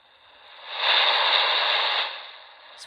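A weather radio on the AM band with poor reception gives off a hiss of static that swells loud and steady for about a second, then fades back down to a faint wash.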